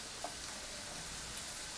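An egg fries in a pan for walnut farofa, giving a faint, steady sizzle with a couple of soft clicks, and no talking.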